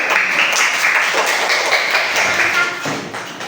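Classroom applause as students are seated after a group presentation, a dense patter of children clapping, close and steady, fading slightly near the end.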